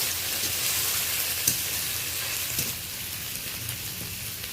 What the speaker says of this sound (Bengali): পেঁয়াজ টমেটোর সাথে আদা রসুন বাটাটা বেশ ভালো করে কষিয়ে নেব।